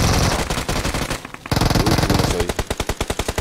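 Rapid gunfire in PUBG, loud sustained automatic bursts, a short pause, then another stream of evenly spaced shots ending in a steady rattling rhythm.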